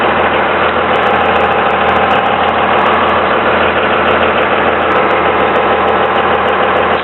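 A 2001 Cummins diesel truck engine idles loudly and steadily, a dense, continuous clattering rumble heard close up with no breaks and no voices.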